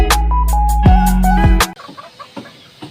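Chickens in a pen cluck loudly and close by in quick repeated bursts for about a second and a half, then quieter scratchy movement and faint clucks follow.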